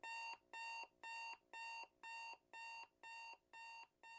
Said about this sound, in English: somewhere off in the distance you hear your respective alarms going off